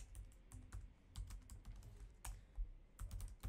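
Code is typed on a computer keyboard in quick, irregular bursts of close, crisp key clicks with short pauses between them, and no talking.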